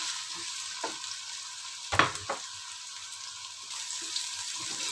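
Tempe pieces fry in a pan with a soft, steady sizzle, cooking with salt for a vegetable lodeh. A sharp clatter and a few light knocks of a utensil come through near the middle, and no one speaks.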